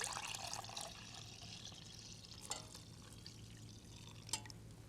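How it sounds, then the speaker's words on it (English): A coffee-like caffeine-free drink is poured into a new cup, a faint liquid trickle at the start followed by a few soft drips and clinks in a quiet room. "now I'm just going to pour it into a new one because this will make it easier for me to pour"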